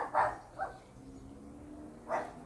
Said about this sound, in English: Just having a go at the dogs.